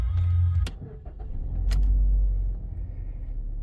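A car engine cranks and starts, with short mechanical clicks and a brief starter whir before settling into a low, steady idle, close by and with no talking.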